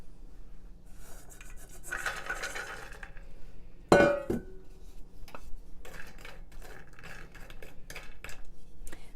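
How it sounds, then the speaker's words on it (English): Pecans toasting in a skillet while being stirred, with a series of close metallic clinks, scrapes and clatters against the pan, one sharp louder knock partway through, and no talking. "we're just going to throw the pecans in the skillet and let them kind of get brown"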